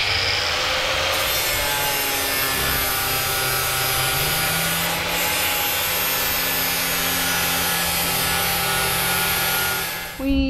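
Steady rasping scrape of a tool shaving a wooden sailboat window frame, continuous and close, with a droning motor-like hum underneath throughout.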